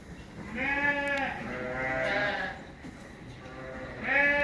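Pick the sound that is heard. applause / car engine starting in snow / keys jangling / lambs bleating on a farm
lambs bleating on a farm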